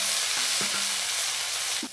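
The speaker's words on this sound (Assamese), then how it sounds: "এতিয়া আমি ইয়াতে টেঙেচি টেঙা আৰু নৰসিংহ পাতখিনি দি লওঁ ভাজিবৰ বাবে।" Tengechi tenga sorrel leaves and narasingha leaves fry in hot oil, giving a steady, close sizzle with a few faint clinks from stirring.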